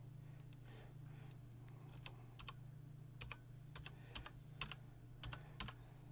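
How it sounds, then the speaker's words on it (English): Typing on a computer keyboard during a VR stream, with soft irregular clusters of key clicks that grow busier toward the end over a low steady hum, with no talking. "I'm not typing in the right window."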